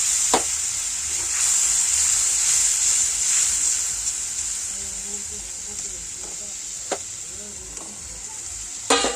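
Water poured into a hot pan sizzles with a steady, loud hiss that fades slowly, broken by a few sharp clatters of utensils against the pan.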